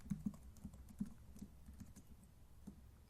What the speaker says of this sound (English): We're typing in password.